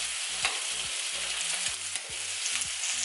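Prawns sizzling in oil on a home BBQ grill, a loud, steady crackle and hiss close up with faint scraping or shifting sounds underneath, no talking.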